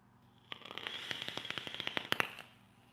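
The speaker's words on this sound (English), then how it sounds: "You can hear it wanting to crackle, but I just put too loose of cotton in there." A homemade crackle firework packed with loose cotton pops weakly at a distance, a quick uneven string of small sharp cracks that thickens toward the end, then fades out without any voices.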